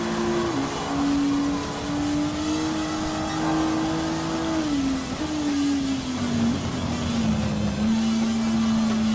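Race car engines in Gran Turismo Sport, with a Porsche and a LaFerrari racing, heard as a loud, sustained engine drone that holds its pitch and dips slightly as gears shift, close and continuous.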